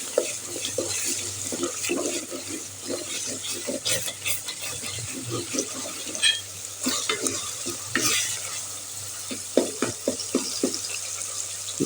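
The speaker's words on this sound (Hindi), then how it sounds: "अच्छे से इसमें चम्मच हिलाते रहेंगे" A spoon scrapes and stirs mixed vegetables and tomato frying in desi ghee, giving repeated clacks over a steady sizzle. The stirring is close and irregular, with no voices.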